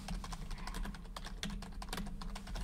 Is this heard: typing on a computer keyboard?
yes